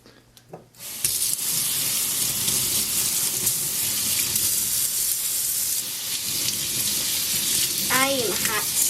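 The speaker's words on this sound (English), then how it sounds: "and then you could turn on the hot water" Hot water runs steadily from a kitchen faucet into a sink from about the one-second mark onward, a broad continuous hiss with a brief high squeak near the end and no talking over it.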